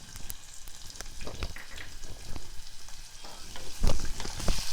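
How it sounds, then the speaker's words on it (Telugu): Finely chopped onion fries with cumin seeds in hot oil for a mint pulao, a steady close crackling sizzle with occasional stirring scrapes and pops throughout. "జీలకర్ర వేగగానే ఒక చిన్న ఉల్లిపాయ సన్నగా ముక్కలు కట్ చేసుకొని వేసుకోవాలి."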